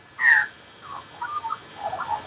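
A hungry Australian magpie calls close by outdoors with one loud, sharp note followed by a series of softer warbling chirps.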